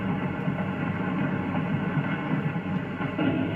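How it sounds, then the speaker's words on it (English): A 1950s passenger train locomotive starts to move slowly, giving a steady low rumble and mechanical drone at moderate loudness, with no clear wheel clatter rising above it. "The huge locomotive sets the train in motion,"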